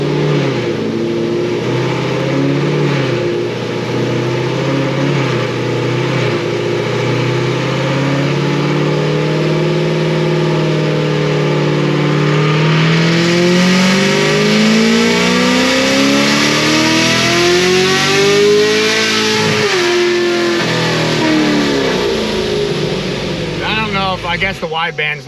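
Supercharged LT1 engine in a Stage 5 Procharged Camaro with a 10-speed transmission, roaring loud and close through a sustained dyno pull, pitch climbing steadily before cutting off near the end.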